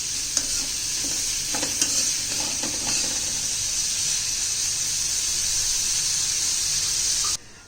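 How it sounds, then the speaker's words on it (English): Onions sautéing in a pan for a Maharashtrian zunka, a steady bright sizzle with a few spatula scrapes early on, constant and close until it cuts off abruptly near the end. "We need to cook this till the onions just kind of begin to turn translucent in color"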